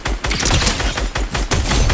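Rapid bursts of gunfire from the video game Fortnite, played in creative mode, crackle loud and close in quick repeated volleys across the whole stretch with no talk over them.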